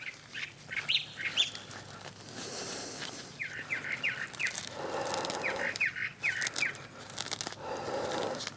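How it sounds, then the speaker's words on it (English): A loud bird sings outdoors in a garden during fall planting, repeating bright chirping phrases in bursts over a steady background hiss, with no talking. "That's a loud bird."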